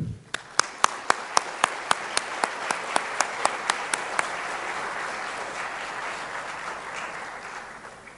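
At a Hispanic-American press congress lecture, an audience welcomes a guest speaker with about a dozen sharp, evenly spaced claps in unison. These dissolve into a softer, continuous wash of applause that slowly tapers off.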